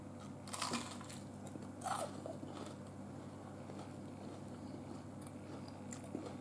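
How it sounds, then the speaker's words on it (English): Someone bites into a crunchy onion ring and chews, giving a couple of sharp crackling crunches early on followed by softer, quieter chewing noises, close to the microphone with no talk. "Listen for the crunch."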